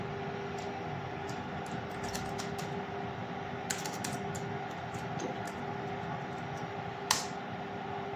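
Keys are tapped on a computer keyboard to enter a password for a Cisco switch console session, coming in irregular bursts of light clicks over a steady fan-like hum.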